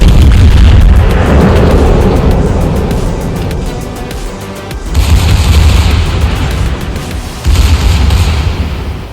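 Secondary guns of a Tier 9 German tech-tree battleship firing in a naval video game, loud booming salvos layered over a constant heavy rumble, with a brief dip before the barrage resumes.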